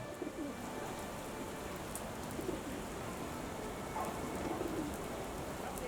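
Steady rain falls in a Sherlock Holmes video game, a continuous close patter on surfaces with faint bird calls sounding now and then through the wash.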